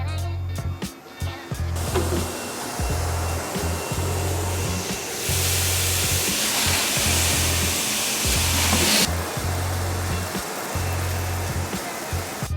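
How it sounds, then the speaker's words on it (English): A commercial coffee roaster warming up, its steady broadband roar and hum running throughout, with a rhythmic low-frequency pulsing and a louder hissing burst partway through. "here you can see the roaster is almost finished warming up"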